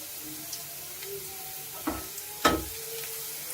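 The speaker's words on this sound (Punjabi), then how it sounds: "ਲਸਣ ਗੋਲਡਨ ਬ੍ਰਾਊਨ ਕਲਰ ਹੋਣ ਤੱਕ ਇਸ ਨੂੰ ਭੁੰਨ ਲਵਾਂਗੇ" Garlic fries in oil for veg chowmein, a soft steady sizzle close by, broken by a couple of sharp spatula scrapes and knocks against the pan.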